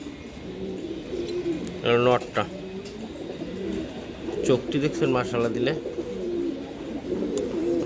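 Giribaz high flyer pigeons coo in a low, throaty, continuous murmur while someone talks over them in two short bursts, the flock steady and close beneath his voice.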